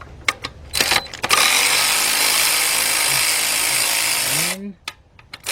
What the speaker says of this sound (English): I'm going to be using my cordless impact.